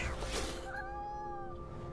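A cat meows in the video game What Remains of Edith Finch, one drawn-out rising and falling meow over a low steady background rumble, fairly clear and close.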